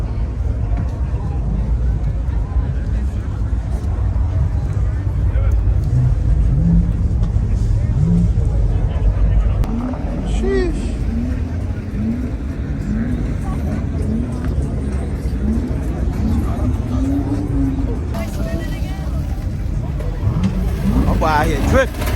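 Restored Cobra car's engine droning and revving while drifting, a steady loud rumble with rising and falling pitch sweeps, with voices talking over it.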